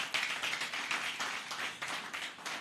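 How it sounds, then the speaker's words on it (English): A seated crowd at a Lagos photographers' association anniversary conference gives a round of applause, with brisk, uneven clapping from many hands heard at a moderate distance. "please give another round of applause to the government of Lagos State"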